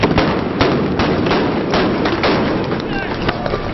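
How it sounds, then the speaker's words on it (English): Sound bombs and tear gas canisters fired at protesters in Bahrain, heard as a dense run of sharp bangs and thuds over steady crowd noise throughout. "Tear gas, rubber bullets, sound bombs."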